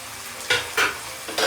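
Whole spices, cinnamon, cloves, cardamom and dried fenugreek leaves, sizzle in oil for a moment, punctuated by three short bursts of frying hiss as they are stirred, quiet and close.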